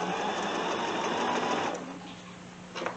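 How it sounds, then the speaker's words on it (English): A sewing machine stitches around the edge of a fabric casserole cover, running steadily and loudly for nearly two seconds, then slowing to a quieter hum before a short burst near the end. "I'm going to finish sewing the rest of the way around this"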